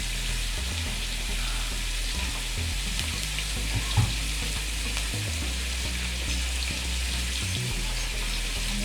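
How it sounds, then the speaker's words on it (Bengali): Onions and dried red chillies fry in hot oil, a dense, even sizzle heard up close, with low thuds and scrapes of stirring and one brief sharp knock partway through. "যতক্ষণ না পেঁয়াজটা ব্রাউন হয়ে আসছে ততক্ষণ আমি এখানে নাড়তে থাকবো।"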